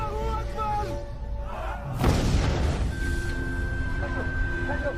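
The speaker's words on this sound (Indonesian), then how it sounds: "Akibat dari ledakan itu membuat Jae terluka parah." A sudden loud blast hits midway, a booming burst with a rumbling, crackling tail, following a stretch of background music and ringing tones.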